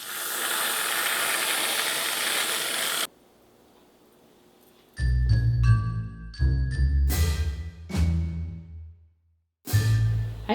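Whipped cream sprayed from a can onto keto hot chocolate, a long hissing spray, a pause, then several short bursts and sputters from the nozzle, close and fairly loud.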